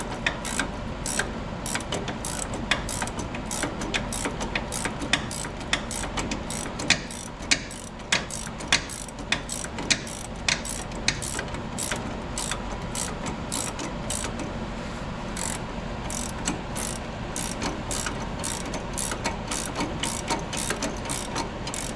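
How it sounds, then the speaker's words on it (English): A ratchet tightens an adapter piece on a 57 Chevy clutch linkage, giving long runs of rapid, close metallic clicks with brief pauses between strokes, set against a low mechanical background. "I'm going to tighten up this adapter piece I made"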